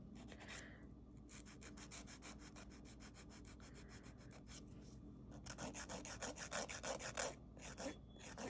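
An electric nail file (e-file) buffing and softening the edges of dip powder nails, a close, continuous fine rasping and whirring that grows a bit louder toward the end.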